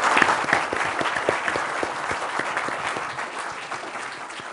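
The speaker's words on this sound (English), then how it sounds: "give them a warm applause" An audience at a business conference on China gives the panelists warm applause, many hands clapping steadily at moderate distance and gradually easing off.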